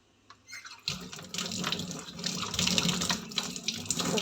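Water running from a tap into a sink for washing, a steady splashing gush starting after a brief quiet moment and continuing loudly, close by with no talking.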